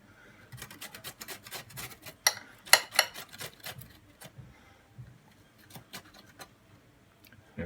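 Potatoes are rubbed against a grater to make Polish potato pancakes. Quick, fairly quiet rasping strokes repeat unevenly, and a few louder scrapes and metallic clinks mix in.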